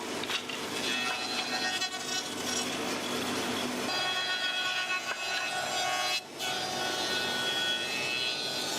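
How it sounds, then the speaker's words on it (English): A heavy-duty planer with rapidly spinning cutter heads shaves pencil wood to thickness in a pencil factory, a loud sustained whirring roar that shifts in tone partway through, with a brief dip near the end. "The planer uses rapidly spinning cutter heads to shave the wood down to an exact thickness."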